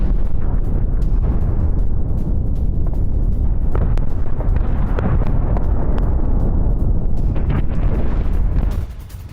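Deep, continuous rumbling booms from Israeli bombing of a building, with sharp bursts scattered throughout, loud and sustained, before dropping off abruptly at the end.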